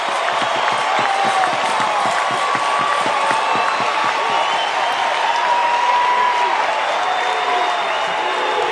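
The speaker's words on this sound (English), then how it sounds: "This crowd has been waiting to explode." A college baseball crowd at a Super Regional game cheers and applauds loudly. The clapping and roaring are dense and sustained, keeping a steady, thick wall of noise throughout.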